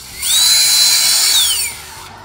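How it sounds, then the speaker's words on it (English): A power drill pre-drilling a hole for an L screw while mounting a panel, one steady high whine that spins up, holds for over a second and winds down, loud and close with no talk. "I find that pre-drilling a hole before you put in the L screw makes it a whole lot easier"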